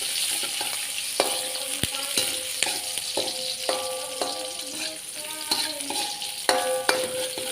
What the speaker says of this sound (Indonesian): Kita masukkan bawang merah dan bawang putih. Kita tumis hingga harum.